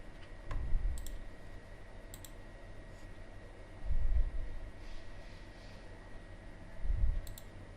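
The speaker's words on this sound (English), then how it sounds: "Just double click it to extract this zip file." Computer mouse being double-clicked, three faint, short click pairs spaced a few seconds apart over a low room hum.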